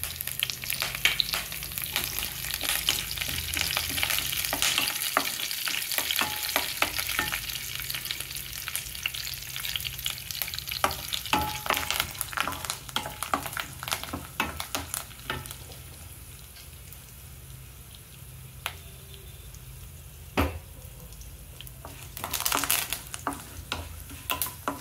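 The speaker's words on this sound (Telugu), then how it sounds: "బాండి పెట్టుకొని కొద్దిగా ఆయిల్ వేసుకొని దినుసులు వేసుకుందాం" Spices and curry leaves frying in oil in a pan for semiya upma, sizzling steadily with scraping stirs and occasional clinks, close by and with no talk.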